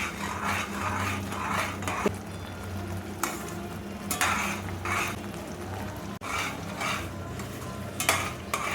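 Ground paste being stirred into a thick mango, jackfruit and rock-sugar payasam syrup in a pot, making a steady wet scraping and stirring sound in repeated strokes, close and moderately loud, with no talking.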